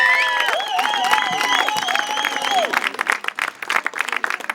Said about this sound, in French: je vous demanderai une salve nourrie d'applaudissements pour encourager ces filles